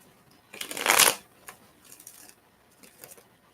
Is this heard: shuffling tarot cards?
yes